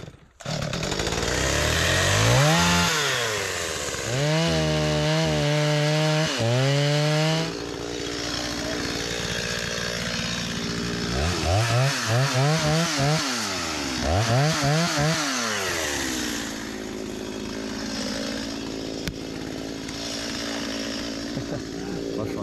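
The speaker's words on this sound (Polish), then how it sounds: "Pan ma piłę motorową i będzie ścinał." Chainsaw cutting down a large spruce Christmas tree in a forest: loud, close engine revving up and down in repeated bursts, idling between cuts with rough chattering, and faint voices at times.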